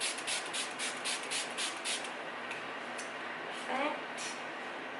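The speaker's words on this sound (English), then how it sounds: "for setting spray, I'm going to use Make It Forever Mist and Fix" A Make Up Forever Mist and Fix setting spray bottle is pumped in a quick run of about eight short, soft hissing bursts, then the room goes quiet with only a faint rustle.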